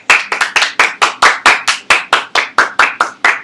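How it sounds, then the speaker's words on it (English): Loud, close clapping for guests, a single pair of hands or a small group striking in a steady, even rhythm of about four claps per second. "Let's give them a round of applause."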